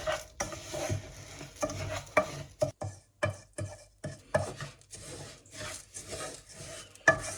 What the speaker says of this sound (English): You just need to stir for about 2 minutes.